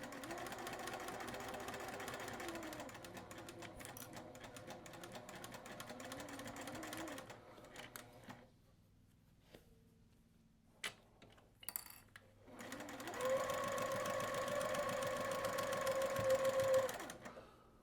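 A sewing machine stitches quilt fabric in long steady runs of fast, even whirring, stopping for a quiet pause with a few clicks and knocks before starting up again loud and close.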